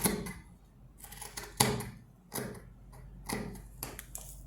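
Scissors snip through trouser fabric being cut for front-pleated pants, several crisp, separate cuts in an uneven rhythm, close and fairly quiet with no talking.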